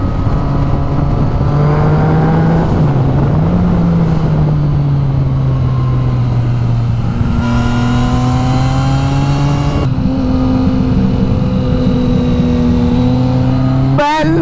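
A Ferrari engine in a racing video game revs and holds a steady high drone, with pitch rising and falling as it shifts, loud and continuous throughout with a sharp sweep near the end.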